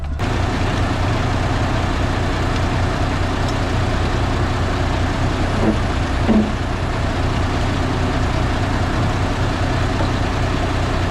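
A truck's emissions engine hums steadily on after shutoff, a loud, even, low drone that fills the cab for the whole stretch, with no one speaking.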